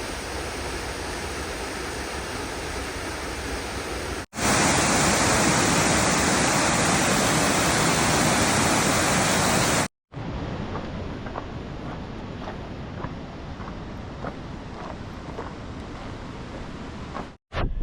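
Tunnel Falls, a waterfall on the Pacific Crest Trail, roars as a loud continuous rushing wash, with abrupt cuts between steady segments and faint tapping under the water noise in the last stretch.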